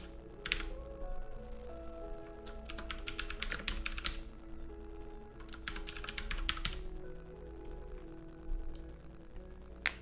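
Clicky computer keyboard typing comes in quick bursts of rapid keystrokes separated by pauses, set against a quiet bed of mobile game music.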